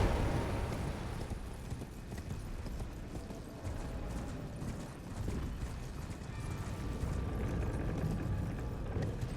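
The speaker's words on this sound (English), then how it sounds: "Oh, you can use the horse here?" Hooves of a horse galloping in the video game Elden Ring pound in a steady, rapid clip-clop rhythm throughout, loud and close, with no voices.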